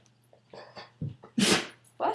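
A dog sneezes indoors during trick training, a few short snorting bursts followed by one sharp, loud sneeze and another close behind, with soft breathing in between.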